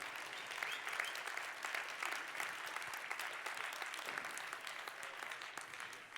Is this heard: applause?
yes